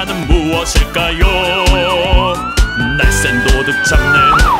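A wailing police car siren rises and holds over a bouncy children's song beat, loud and close, with the tone sweeping up and sliding back down.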